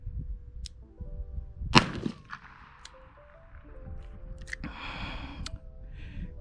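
A single sharp crack from a Smith & Wesson 686 .357 Magnum revolver fired at a target range, with a few faint rustles and clicks afterward and no talking.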